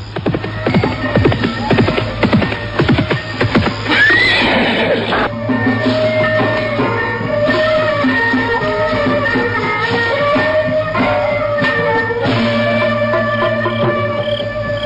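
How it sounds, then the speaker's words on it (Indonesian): Horse hooves galloping toward a settlement at night, a steady throbbing rhythm of beats under a continuous low hum and swelling dramatic music, with a horse's whinny rising briefly near the middle. "mendadak terdengar derap kuda dari kejauhan"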